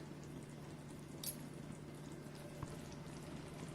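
A soft, quiet bubbling simmer of onion-peanut chutney in a pan, low and steady, with a faint hum underneath and no talking.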